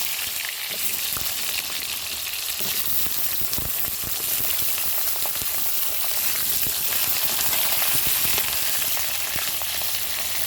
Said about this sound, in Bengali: এখন প্রতিবার আলুগুলো ভেজে নেবো